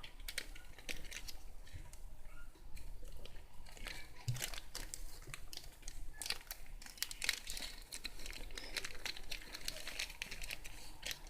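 Plastic bags crinkle and rustle in irregular bursts while items are packed, heard close and fairly quiet and continuing throughout.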